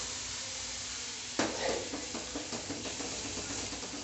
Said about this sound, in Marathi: हा उकडलेला वाटाणा आहे तो आपण याच्यामध्ये टाकणार आहे